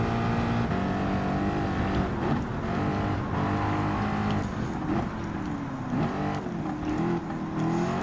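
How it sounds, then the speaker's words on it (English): Race car engine in Gran Turismo 7 revs hard and near, whining up and down through gear changes with rising and falling pitch, continuous and loud with no voices over it. "gonna have to go rev up to the limit"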